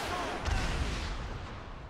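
RPG rocket explosion in Dead Rising 3, a single heavy booming blast with a rumbling low-end tail, loud and close.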